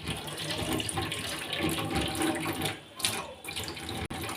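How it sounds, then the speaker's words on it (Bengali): Bowl-rinsing water is poured into a simmering Bengali mustard fish curry, making a continuous close splashing trickle for a few seconds that ends with a small clunk. "এই বাটি ধোয়া জলটাও আমি এতে দিয়ে দিচ্ছি"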